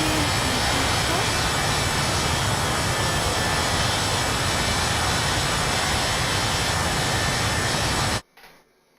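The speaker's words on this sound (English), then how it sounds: "so that was the Airbus A318" An Airbus A318 airliner takes off from an aircraft carrier in a flight simulation game, its jet engines a loud, steady roar that holds for about eight seconds and then cuts off abruptly into near silence.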